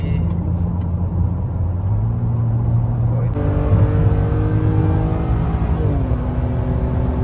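A car's engine drones steadily from inside the cabin on the drive toward an airport, with a shift in pitch partway through as the engine note changes.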